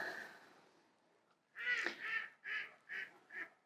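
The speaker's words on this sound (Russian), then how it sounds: "Утки на реке крякают." Ducks quack on a river on a cold late-autumn day, with a run of five loud, close quacks in quick succession after a quieter stretch of distant calls.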